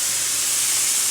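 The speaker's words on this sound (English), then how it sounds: "you're going to add your wild mushrooms. I've got shiitake and baby bellas today" Shiitake and baby bella mushrooms hit a hot pan with a steady, loud steam-like hiss that holds evenly and close throughout, with no talking over it.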